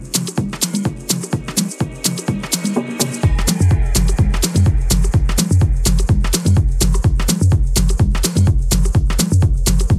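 The intro of a house remix, with steady punchy kick drums and hi-hats over a synth pad, as the filter on a DJM mixer is brought back down and a full, heavy bass swells in midway.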